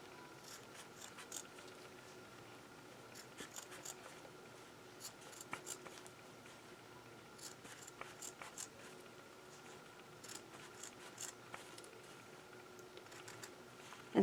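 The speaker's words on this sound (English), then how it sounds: "these scissors work really well at this" Scissors snip through beige denim in a quiet room, giving a run of soft, irregular crisp cuts and slides of the blades, close up and fairly faint.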